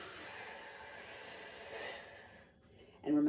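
A long, steady exhale of breath during a calming breathing exercise, close and soft, fading out before a voice begins speaking at the end.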